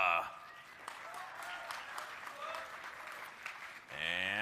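An audience claps for a StarCraft 2 player at an IPL4 group-stage match, sustained mid-level applause with a commentator talking over it throughout.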